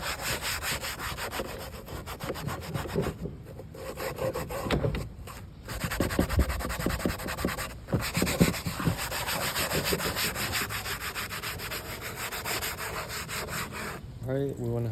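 Stiff brush scrubbing a degreased interior panel of a 1989 Chevrolet C1500 truck, a steady rasping friction with rhythmic back-and-forth strokes, close and fairly loud, with a couple of brief pauses.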